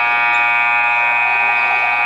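A loud, sustained electronic buzzer marking the end of the first half at a high school boys basketball game in Fort Morgan, holding one steady harsh tone throughout with no talk over it.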